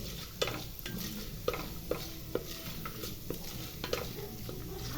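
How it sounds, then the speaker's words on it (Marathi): Lemon rice is stirred and mixed in a hot pan: a steady low sizzle runs under regular scraping knocks of a spoon against the metal, close and clear, with no voices. "आता आपण मिक्स करून घेऊया."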